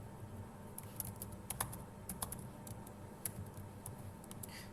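Typing on a computer keyboard while writing code, light irregular key clicks in quick clusters over a steady low room hum, close but quiet.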